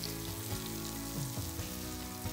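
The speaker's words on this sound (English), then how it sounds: "the goal here is to hear that sizzle when this pours in" Loud crackling sizzle as batter hits hot oil, a dense bubbling hiss with a few low clunks, no voices.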